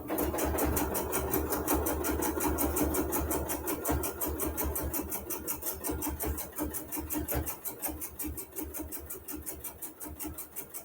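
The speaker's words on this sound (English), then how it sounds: "over to the machine and I'm going to start stitching right at my corner basting stitch" Sewing machine stitching steadily along a corner basting stitch while a quilt is assembled, a fast even needle rhythm running continuously and fairly close, easing off slightly toward the end.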